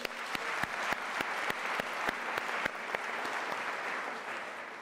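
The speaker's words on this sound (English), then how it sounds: "let us give Professor Mutlwadi another round of applause" A university graduation ceremony crowd applauding a speaker steadily, with a few sharper individual claps standing out near the start.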